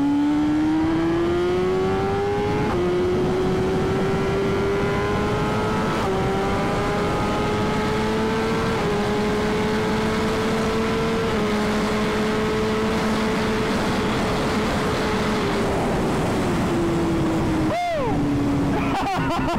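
A BMW S1000RR motorcycle on a cold, salted road accelerates hard, its engine whine climbing steadily through the gears, loud and close and continuous for most of the run before easing off near the end.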